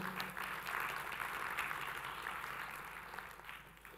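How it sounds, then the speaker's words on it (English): A seminar audience applauds a participant, a soft, distant wash of many hands clapping that holds steadily for about four seconds before easing off. "Give her an applause for taking the courage to actually share her goals"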